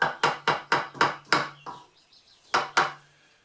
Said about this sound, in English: Actually a self-centering punch.